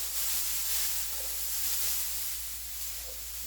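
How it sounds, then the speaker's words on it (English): A steady soft hiss of green beans, corn and onions sizzling in a hot pan while being stirred, even and close with no voices. "I'll just go ahead and give this a little bit of a stir here"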